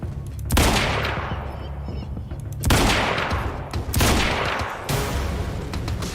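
Gunfire in Quantum Break, a shotgun firing in heavy blasts: three loud booming shots spaced a second or two apart, each with a long crackling tail, followed by a further burst of impacts.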